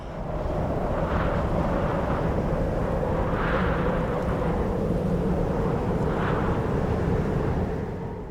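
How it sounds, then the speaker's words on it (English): A camera drone flies outdoors during a solo mountain bike shoot, giving a steady, continuous droning whine that holds at an even level for the whole stretch, with no voices. "All right, it is drone time."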